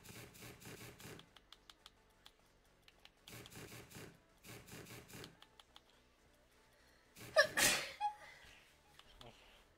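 A single sharp sneeze bursts out near the end, loud and close, after quiet stretches of light tapping and clicking like typing in a room.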